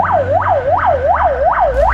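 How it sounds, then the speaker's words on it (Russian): A loud ambulance siren on the road wails in a steady, rapid rising-and-falling cycle, about five sweeps in two seconds, close by over low traffic rumble. "По дороге встречаем еще две машины скорой помощи."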